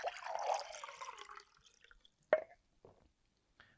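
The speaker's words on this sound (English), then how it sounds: "you just pour water in a cup and pour it straight up into it" Water poured into a cup as a foley effect: a broad splashing pour for about a second and a half, then a few sharp drips and plops in near silence.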